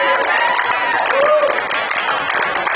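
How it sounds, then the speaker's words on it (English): Applause from a literary reading audience at Webster Hall, a brief, steady wash of clapping close to the recording with a few murmurs underneath. "Round of applause for yourself."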